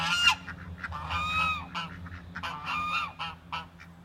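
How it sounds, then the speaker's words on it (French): Several geese honk loudly and repeatedly at close range at Finca San Pedro in Sogamoso, their calls coming in bursts over steady low background noise, with no talking. "Ah, ils sont là les oies, ils sont sortis de leur cage."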